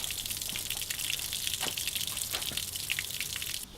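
Tap water turned on and running through a flushing attachment for a boat's fuel-injected outboard motor trimmed level, a steady close hiss and splash with a few drip-like ticks, cutting off near the end.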